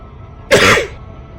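A single sharp, loud cough bursts out at close range from a live streamer, lasting about half a second and then dropping back to a quiet room hum.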